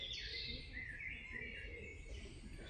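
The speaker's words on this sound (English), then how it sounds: "Oh, look at those dicky birds." Wild birds chirp and twitter nonstop on a cliff-top coastal path in Penarth, South Wales, a dense high chorus at moderate distance over a low rumble of wind or outdoor ambience, with no one speaking.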